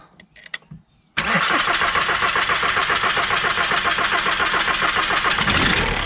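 A VW Audi 1.9 TDI 110 hp diesel with a hard-starting fault and adjusted injection timing: a few brief clicks, then a short pause before it cranks and catches abruptly. It settles into a loud, steady, close diesel idle.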